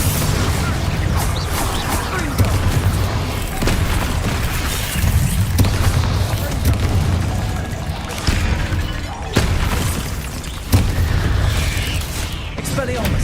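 Explosive spell blasts in the Hogwarts Legacy video game, a dense stream of booming impacts with repeated sharp bursts and crackling debris over a steady loud rumble, with a voice casting spells between the blasts.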